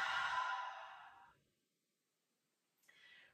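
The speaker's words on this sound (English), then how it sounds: "big breath in, and exhale out the mouth" A long, breathy exhale through the mouth during gentle yoga breathing in bed, close and soft, fading out over a second, followed by silence and the start of another faint breath.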